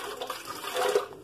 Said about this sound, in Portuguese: aqui eu coloco um pouquinho de água, senão a massa vai ficar muito dura